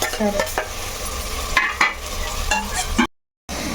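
Stuffed eggplant curry sizzling in a pan with scraping stirring strokes, a few sharp clinks of a utensil, then a brief silence before the frying resumes.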